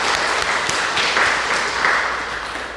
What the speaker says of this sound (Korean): 우리 박수 한번 해드려요